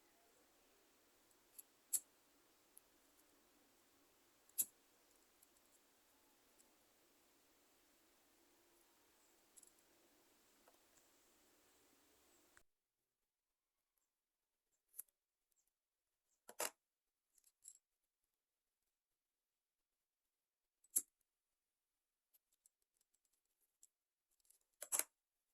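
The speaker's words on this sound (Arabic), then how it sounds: "الآن سوف نقوم بقص طرفين معا، نقص الطرفين" Scissors snip through two thread ends while a beaded string bracelet is being made, giving a few sharp, close clicks and snaps spaced out over a quiet background.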